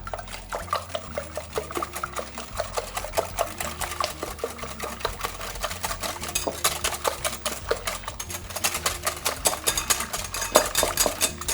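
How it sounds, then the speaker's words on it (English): Free-range eggs being whisked briskly in a bowl, a rapid, regular clatter of whisk against the sides that carries on throughout, close and moderately loud, with no voices. "Gonna whisk them up."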